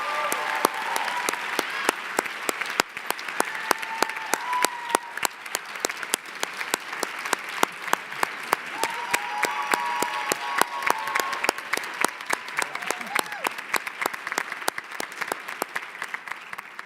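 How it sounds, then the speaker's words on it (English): An audience at a panel event applauds steadily, many hands clapping in a dense, sustained patter that runs on for well over fifteen seconds at moderate loudness. "could we give an applause to our esteemed panel?"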